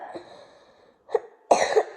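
Two brief coughs from a person close to the mic, a short muffled one followed by a louder, harsher one, with near silence around them.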